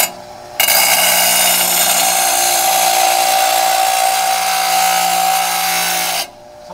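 A power tool grinds steadily against a lawn mower blade during sharpening, a loud continuous abrasive whine with a faint tonal hum that starts abruptly and holds for about six seconds before cutting off, no voices.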